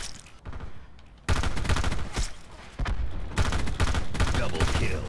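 Rapid loud gunfire rings out in a video game shooter, repeated sharp shots in dense bursts that fill the whole stretch.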